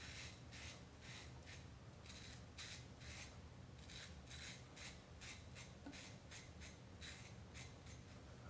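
Muhle R41 safety razor scraping through sideburn stubble, a steady close-up series of rhythmic rasping strokes, quiet and continuous with no talking.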